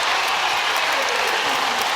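Dense, steady roar of a basketball arena crowd at a women's college game between South Carolina and Auburn, cheering and applauding without a break, loud and close, with no distinct voices standing out.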